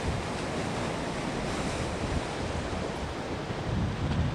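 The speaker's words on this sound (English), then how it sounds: "Great waves this morning." Ocean surf breaking in the bay at Farr Beach on a bright morning, a dense, continuous roar of waves mixed with wind buffeting the microphone, steady and close with no voices.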